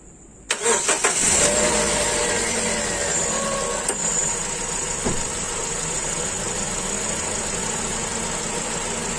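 A Wuling Cortez engine turns over and settles into a steady idle during a radiator coolant change, running continuously and evenly for several seconds, close by.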